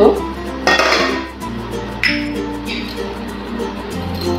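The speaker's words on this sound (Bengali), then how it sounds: "তারপর একটি ঢাকনার সাহায্যে এটি ঢেকে দিব।" A lid placed over a pan while making sabudana papad, giving a few metallic clanks and clinks at the start and partway through, close and fairly loud over a steady kitchen hum, without speech.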